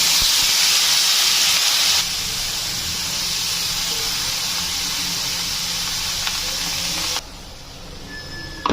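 Vegetables drop into hot oil seasoned with cumin and turmeric and sizzle loudly with a steady, bright hiss that eases a little partway through and then drops off near the end.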